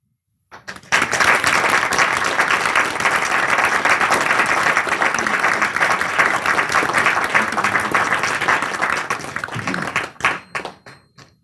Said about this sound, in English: give Dr. Devon a rousing round of applause.